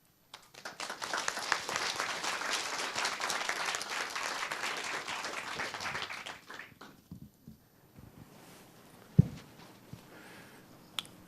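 An audience at a keynote talk claps warmly for about six seconds, the dense applause thinning and fading out, followed by a near-quiet room with a few scattered sounds and a sharp knock.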